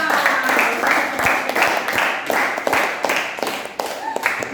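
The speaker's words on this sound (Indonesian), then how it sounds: "Sangat sesuai, tepuk tangan" A classroom of students claps in short, rhythmic bursts for a student group's presentation, close and fairly loud, with a few sharp individual claps and a teacher's voice speaking between them.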